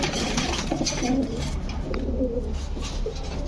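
A female pigeon coos softly a few times, close by, over a constant background hum.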